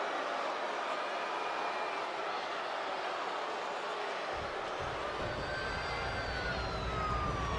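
An ambulance siren in the wrestling video game WWE 2K24 wails steadily with rising and falling tones over a loud crowd roar, with no voices heard.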